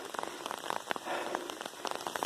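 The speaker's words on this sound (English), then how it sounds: "And it's starting to rain a little bit." Light rain patters steadily on surfaces around a hiking trail in North Georgia on an overcast August day, quiet and close, with scattered distinct droplet taps and no voices.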